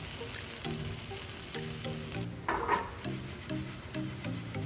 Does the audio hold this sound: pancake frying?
yes